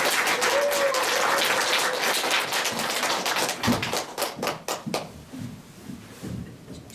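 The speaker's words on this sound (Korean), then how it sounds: "큰 환영의 박수 보내주시기 바랍니다" An audience claps to welcome the director of a poetry-recitation academy onto the stage at a Korean recital event. Dense, steady applause fills the room, then thins into scattered individual claps and fades out.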